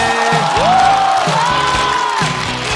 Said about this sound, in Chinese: 掌声欢迎阿赛！